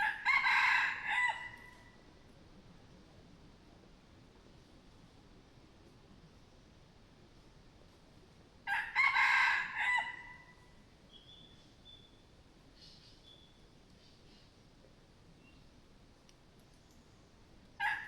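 Jungle fowl crowing in a forest: two loud, near crows about nine seconds apart, each a short harsh phrase, with faint bird chirps and quiet woodland background between them.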